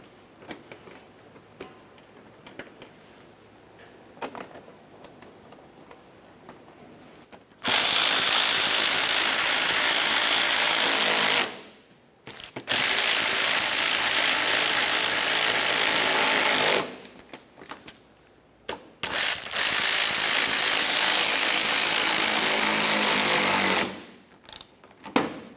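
Impact or power ratchet driving three front bumper mounting bolts on a 2001-2005 Ford Explorer Sport Trac, heard as three loud sustained bursts of rapid mechanical rattling separated by short pauses, with no talking.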